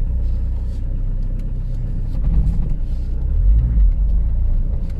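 A car pulls away towing a trailer, its engine a loud, steady low rumble that swells slightly as it gets moving, with no voices.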